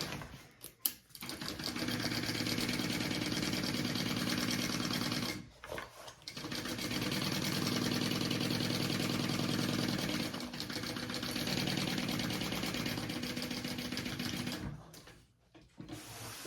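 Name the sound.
sewing machine stitching a seam on a crossbody bag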